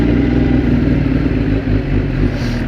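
Motorcycle engine running steadily and close, a loud, even mid-pitched rumble with no pauses, heard alone.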